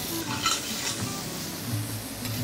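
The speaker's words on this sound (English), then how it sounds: "Saute it nicely." Beans and cherry tomatoes sautéing with garlic, onion and chili in olive oil, a steady close sizzle with soft stirring scrapes of a spoon in the pan, even in level and free of speech.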